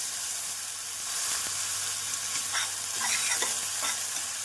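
Onions sizzle and crackle steadily in hot oil for a mushroom curry, with an occasional stir scraping the pan, loud and close with no talking.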